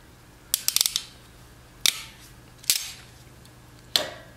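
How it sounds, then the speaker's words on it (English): A hand crimper tool squeezes a lug onto a cable on a log splitter upgrade, giving several sharp metallic clicks and snaps: a quick ratcheting cluster, then three separate isolated clacks, close and crisp over a quiet background. "Got my crimper."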